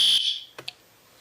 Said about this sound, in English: Let's wait until the fire alarm goes off.